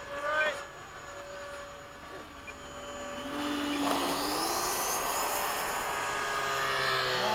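Aircraft flying a formation tandem touch-and-go at Bayside, a steady engine roar swelling as the planes pass close, with radio-style talk over the top.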